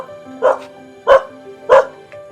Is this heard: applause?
no